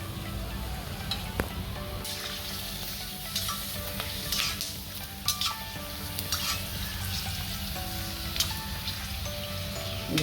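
Store-bought puris frying in hot oil, a dense continuous sizzle and crackle with scattered bright pops and occasional utensil clinks, close and steady with no talk.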